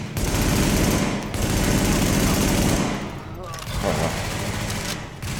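Rapid bursts of submachine gun fire from The Division video game crackle loudly and almost continuously, briefly easing before resuming, with someone speaking over the gunfire.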